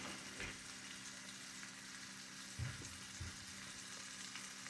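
Top cap sirloin steak sears in a cast iron pan, giving a steady close sizzle with a few louder pops and crackles and no talking.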